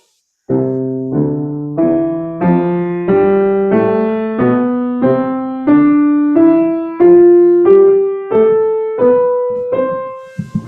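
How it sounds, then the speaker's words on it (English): A piano plays a rising stepwise scale, smooth legato notes in the right hand over short pizzicato-style left-hand bass notes, about a dozen even steps, clear and close. "the right hand is going to do a nice bow on the scale, and the left hand is going to do a pizzicato"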